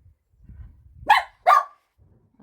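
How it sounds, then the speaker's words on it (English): A female pet dog barks twice at someone outside, two sharp close barks about half a second apart, standing out over quiet low rustling in a crafting room. "there has to be someone outside, doesn't there, so that she can bark at them"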